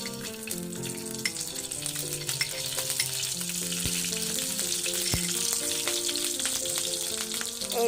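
Ghee sizzles in a hot kadai with a steady, loud frying hiss close by, a continuous crackle heard alongside background music, with no talking.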